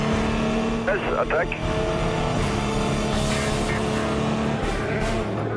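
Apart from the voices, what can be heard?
Le Mans race cars, Audi and number 9 Peugeot, overtaking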